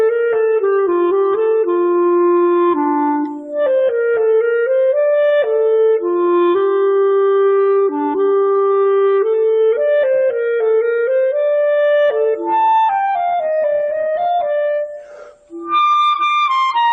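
A clarinet plays a melodic theme from the Oldboy soundtrack as a solo, sustained, legato notes flowing continuously and loud for the whole stretch, no talking.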